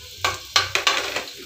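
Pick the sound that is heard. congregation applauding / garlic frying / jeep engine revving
garlic frying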